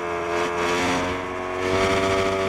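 A 1000cc MotoGP motorcycle engine braking in the TrackDayR racing game, a loud, steady droning engine tone holding with slight pitch sag and recovery, no voices over it.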